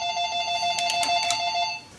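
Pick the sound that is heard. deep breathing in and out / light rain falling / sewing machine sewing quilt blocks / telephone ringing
telephone ringing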